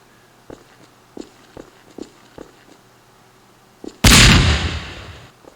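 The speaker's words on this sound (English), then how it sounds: "you'll get a little bit of screen shake here plus the explosion" A few soft footstep-like thumps, then a sudden loud game explosion bursts in with a roaring blast that slowly decays.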